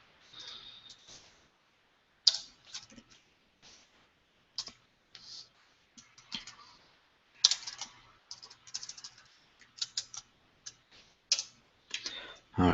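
Java code typed on a computer keyboard: irregular bursts of crisp key clicks with short pauses, close and fairly quiet, and a few louder key strikes near the end.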